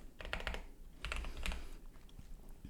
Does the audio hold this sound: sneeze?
no